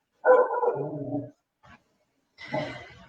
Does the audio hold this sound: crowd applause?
no